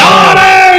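A crowd at an Islamic religious gathering roars back in answer to the Naara-e-Takbeer chant call, a loud, sustained massed shout of many voices held for under a second.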